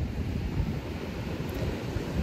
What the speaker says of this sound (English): I'm sorry if you can't hear me, it's a little bit windy.